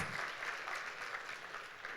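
A church congregation applauds together at a sermon, dense steady clapping sustained for the whole stretch at an even, moderate level with no voices over it.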